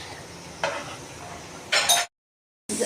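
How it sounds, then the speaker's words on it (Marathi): Dal and rice stirred in a pressure cooker for khichdi, a soft scraping and sizzling with brief louder stir strokes, close by, broken by a short silence. "डाळ तांदूळ टाकल्यानंतर आपण चांगलं मिक्स करून घेतोय"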